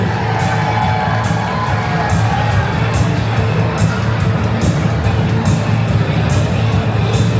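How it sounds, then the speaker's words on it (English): A crowd at a PBR bull riding event cheers and claps, a thick, continuous wash of whoops and applause at steady loudness with no clear voice rising above it. "Give him a round of applause for his effort."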